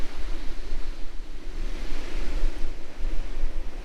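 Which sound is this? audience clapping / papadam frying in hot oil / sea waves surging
sea waves surging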